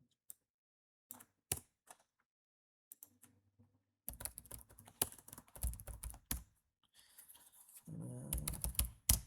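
Typing on a computer keyboard while entering names into an MS Word document: a few isolated key taps at first, then a fast, dense run of clicking keystrokes, close and clear with no talk.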